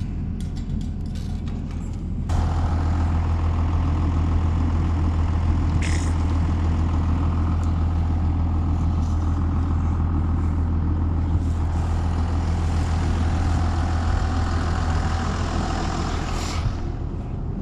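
Steady rumble of a truck engine running while driving home from feeding cattle on a snowy farm, a constant loud low drone that swells after the first two seconds and holds, with no talking.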